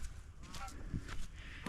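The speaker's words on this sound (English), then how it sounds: "Geese." Geese honking outdoors near an ice-fishing spot at a state park, several short nasal honks scattered across the clip, moderately distant over steady wind-like background noise.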